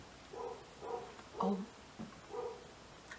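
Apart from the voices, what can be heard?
dog barking in the background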